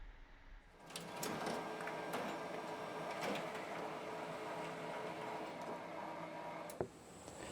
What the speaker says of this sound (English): my fretboard template comes out on the printer